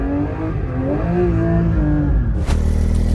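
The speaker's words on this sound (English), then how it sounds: "Especially with the GT3 RS. Bro, this car is so loud, although it's stock." A stock Porsche 992 GT3 RS driven in snow: the engine revs up loud and close with a rising, wavering whine, then cuts sharply into a harsh burst of exhaust noise.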